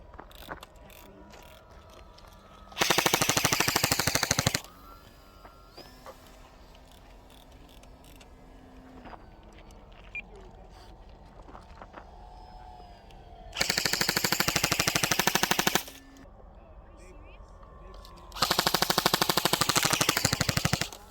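An airsoft gun fires rapid automatic bursts of BBs at a 3D printed RC Sportster, three loud rattling volleys of a couple of seconds each separated by quieter mechanical clicks and whirring, with no talking.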